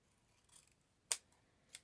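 Sharp metal scissors snipping while working on a mesh Valentine's Day swag: two crisp cuts, one louder and one softer, with a faint rustle of material between them, close up in a quiet room.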